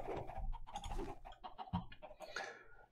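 Chickens cluck in a SkyFactory 3 Minecraft world, a close run of short, choppy clucks and squawks following one another, with no talking.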